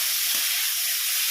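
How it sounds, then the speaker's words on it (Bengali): Shrimp sizzling as they fry in hot oil in a pan, a steady broadband hiss close up and fairly quiet, with no talk. "এই চিংড়ি মাছগুলো এক এক করে ভাজা করে তুলে রাখবো"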